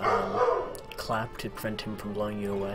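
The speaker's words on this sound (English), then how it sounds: "Apologies for the dog." A dog barks repeatedly in short yips under steady speech during a Donkey Kong Jungle Beat speedrun, the barks close and fairly loud in bursts through the middle.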